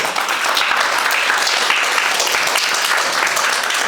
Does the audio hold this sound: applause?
yes